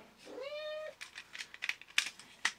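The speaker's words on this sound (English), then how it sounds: "So hopefully you won't mind the constant meowing, because that's what she does." A house cat gives one clear, drawn-out meow up close, followed by a run of light tapping and clicking sounds.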